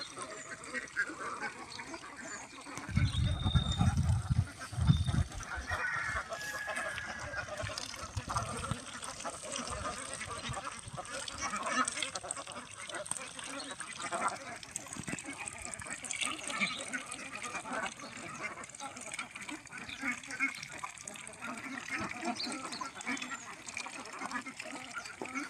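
Free-range ducks let loose in a harvested rice field quack faintly in scattered bursts across a noisy outdoor scene, with a louder stretch early on and people talking at times.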